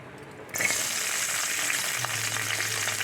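Green chillies hit hot oil for a spicy green chilli chutney, bursting into a loud, steady sizzle after a brief quieter moment, with a low hum joining partway through; no one speaks.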